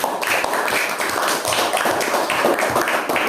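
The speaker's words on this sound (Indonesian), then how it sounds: "beri tepuk tangan dulu untuk kelompok" Classroom pupils clap for a group after a magnet-and-nails experiment, a dense, steady patter of many hands close by, continuous and lively throughout with no talk over it.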